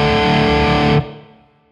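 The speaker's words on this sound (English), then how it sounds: "it's a room, a really short reverb with a lot of early reflection" A processed tone rings through a short room reverb preset on a VH-X effects unit, dense early reflections thickening it before the sound cuts off abruptly and a brief tail decays.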